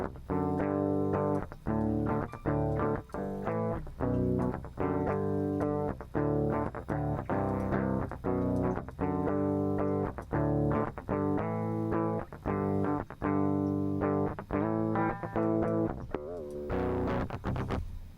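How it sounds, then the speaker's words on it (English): Electric guitar played through a distortion plugin plays a steady riff of chords, heavily processed and buzzy, continuing without pause and without any voices. "all of a sudden you got a distortion"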